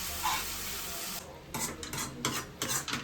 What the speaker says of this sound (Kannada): ಸುಮ್ಮನೆ ಒಗ್ಗರಣೆ ಹಾಕೋದಷ್ಟೇ